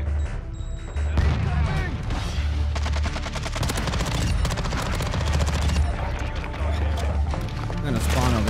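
Rapid gunfire in the Modern Warfare video game, with sustained automatic bursts and heavy booming shots throughout while someone talks over the shooting.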